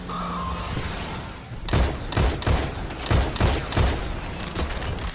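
Rapid bursts of gunfire from a sci-fi shooter, Destiny 2, as players fire at Taken enemies during a Red War campaign mission, several clustered close shots rattling over a background of game ambience.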